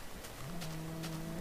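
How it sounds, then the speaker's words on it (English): Minecraft cow lowing once from a hole, a short faint moo rising in pitch and holding steady, alone against quiet background. "It's a cow in a hole."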